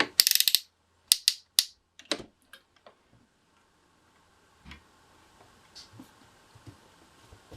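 Sewing machine stitching through layers of fabric on a dart of a slash pocket sample, a fast burst of needle clatter followed by a few scattered clicks, then faint mechanical ticking under near silence.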